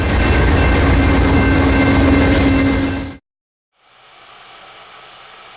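A train rolls past close by in a loud, steady roar with a faint clickety-clack, then cuts off abruptly to near silence before a quieter, distant rumble returns.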